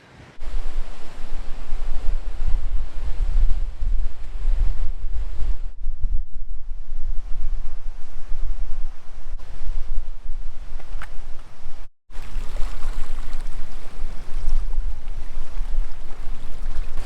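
Ocean waves washing onto the shore on Hawaii's Big Island, a continuous loud roar of surf mixed with wind buffeting the microphone, with a brief dropout near the end.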